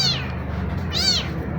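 A tiny abandoned kitten gives two high, thin meows, the first trailing off and the second rising and falling about a second later, close and clear.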